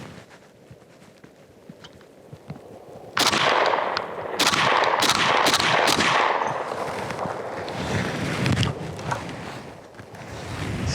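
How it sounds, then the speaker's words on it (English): A Browning BAR rifle fires outdoors, a quiet stretch giving way to loud, sharp shots in irregular succession with echoing reports and continuous noise between them. "I guess it's best just to shoot it, and you can see roughly how it works"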